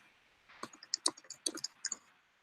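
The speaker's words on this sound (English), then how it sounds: "I'm like typing out what I'm going to say" Fingers type on a computer keyboard during a livestream, a quiet run of uneven clicks and key taps lasting about two seconds, close and with no talking.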